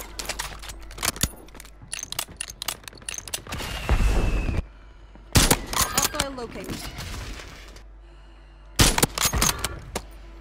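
Rapid UZI bursts in Call of Duty on Rebirth Island, several loud automatic volleys broken by short pauses, with explosion-like booms and other game noise in between.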